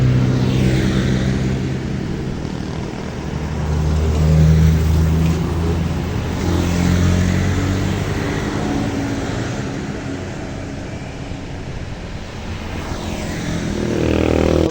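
Cars travel a road through the forest on the Pujon mountain slope near Malang, making a steady, loud engine rumble that swells and fades as vehicles pass close by, with no talking.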